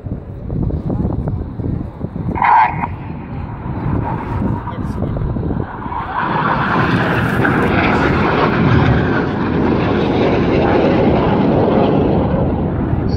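The RAF Red Arrows jets roar overhead during an air day display at Yeovilton, flying the Cyclone manoeuvre; a broad, loud jet rumble swells and holds, with a commentator talking over the PA.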